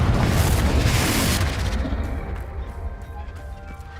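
A loud, booming Confringo spell blast in Hogwarts Legacy bursts at once and rumbles heavily, then fades slowly into a lingering, crackling tail.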